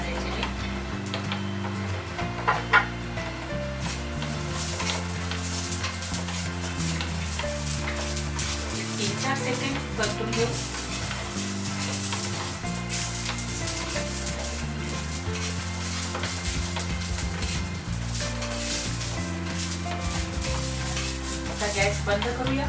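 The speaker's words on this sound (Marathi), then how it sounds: "आता ह्यातच आपल्याला लसूण पाकळ्याही टाकायची आहे भाजायची." Green chillies and garlic cloves roast in a pan with a steady, close crackling sizzle and occasional stirring, while low tonal music plays underneath throughout.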